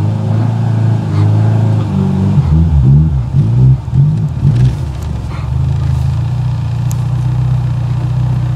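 A rally car's engine revs and pulls as it drives a short stretch of driveway, the deep mid-pitched exhaust note rising and falling through several throttle blips before settling into a steady, loud drone close by.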